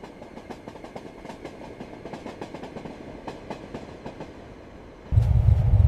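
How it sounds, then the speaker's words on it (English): A train runs on rails toward Mezzana at the end of the line, with steady clickety-clack wheel beats over a rolling hum. A heavy, louder low rumble swells in near the end. "I did well to take the last train to Cles."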